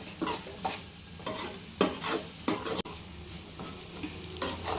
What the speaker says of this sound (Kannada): ಈಗ ಮತ್ತೆ ಇದನ್ನೊಂದು 2 ಮಿನಿಟ್ಸ್ ಫ್ರೈ ಮಾಡಬೇಕಾಗುತ್ತೆ ಎಲ್ಲ ಸಾಸ್ಗಳನ್ನೆಲ್ಲ ಹಾಕಿದ್ಮೇಲೆ